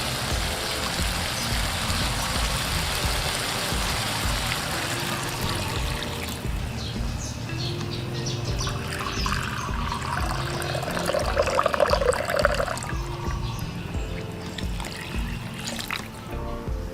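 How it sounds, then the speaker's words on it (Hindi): Water is poured into a pot of basmati rice for vegetable pulao, a steady close trickling splash that runs continuously and shifts in tone as the level rises. "पानी का ऐड करूँगा।"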